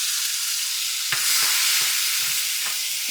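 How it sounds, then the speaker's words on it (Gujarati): Chopped tomatoes dropped into a sizzling tempering of mustard seeds, cumin and asafoetida in hot oil, giving a loud, steady, close hiss with a few soft thumps and scrapes of a spoon, no talking. "હવે એમાં એડ કરીશું ટામેટા થોડાક."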